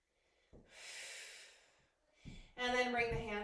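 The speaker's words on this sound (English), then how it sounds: "take a nice deep breath here" A slow, deep breath during a strength yoga flow, with a soft inhale hiss followed by a brief gap, then an instructor's voice speaking close up.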